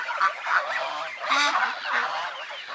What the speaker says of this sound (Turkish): Kaz yavruları da göstereyim arkadaşlar sizlere